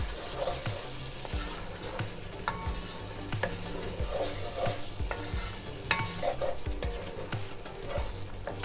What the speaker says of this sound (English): Mix well and let the sauce saute and simmer on medium flame for some time.